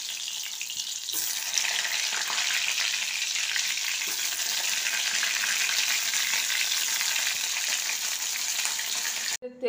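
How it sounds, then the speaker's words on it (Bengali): Pointed gourds (potol) frying in hot white oil give a steady, loud, broadband sizzle that swells after the first second and holds evenly to the end, with no voices. "তেলটা গরম হয়ে গেছে, এবার পটলগুলো আমি ছেড়ে দিলাম। পটলগুলো আমি আগে ভালো করে ভেজে নেব।"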